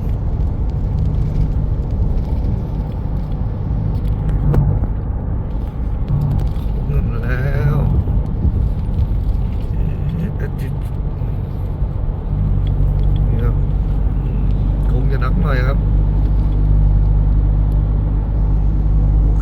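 Car interior on a steep, winding downhill mountain road in rural northern Thailand, with a loud steady engine rumble and road roar throughout and brief swells as it works through curves.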